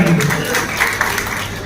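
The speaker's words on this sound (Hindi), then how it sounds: "इनके लिए भी तालियां" Audience applause at a Hindi-language steel industry event in Hisar, Haryana, a brief loud burst of many hands clapping together with some voices underneath.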